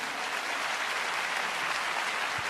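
A church congregation claps together in dense, steady applause that fills the whole stretch at an even, fairly loud level, with no voices standing out.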